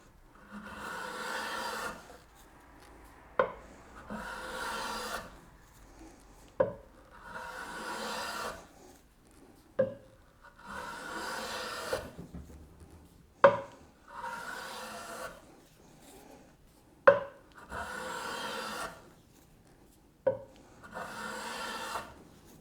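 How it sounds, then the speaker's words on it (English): Hand plane taking smoothing passes along the sides of wooden dovetailed drawers, a series of about eight rhythmic rasping strokes, each followed by a short knock as the plane is lifted and reset, close and fairly quiet. "I'll take a few smoothing passes off the two sides here to get them nice and smooth"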